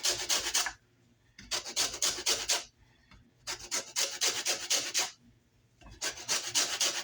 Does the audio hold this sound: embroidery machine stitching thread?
no